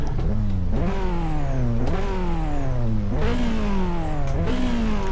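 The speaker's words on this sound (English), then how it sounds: "It sounds okay when you're revving it." A McLaren P1 engine in the video game Test Drive Unlimited 2 revs repeatedly, each sharp rise in pitch followed by a slow falling whine, about four cycles, loud and continuous.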